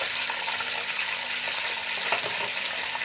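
Carrot and tomato go into a pan of frying chicken for soup, giving a steady, close, bright sizzle with a faint stirring scrape partway through.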